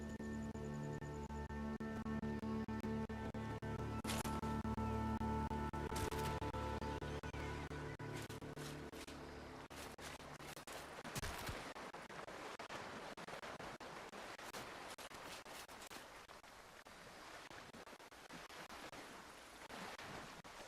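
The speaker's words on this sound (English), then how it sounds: "Will jumping down a waterfall kill you?" Broad, steady rushing of a waterfall in the video game Chrono Odyssey, with a dense wash of noise throughout, sustained tones and scattered sharp game effects early on, and no voices.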